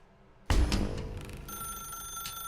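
An old-style telephone bell rings in The Stanley Parable video game, bursting in loud and abrupt, then settling into a sustained electronic ringing tone that carries on alone with no talk.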